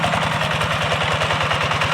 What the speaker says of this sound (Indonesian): Ini traktornya